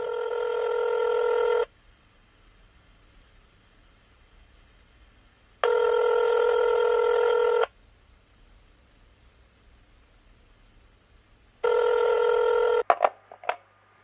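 Ringback tone on an outgoing phone call, three loud evenly spaced rings of about two seconds each separated by long quiet gaps, ending in a click as the line picks up.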